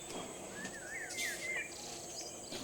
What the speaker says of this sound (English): Only the sounds of birds and the soft breeze break the silence.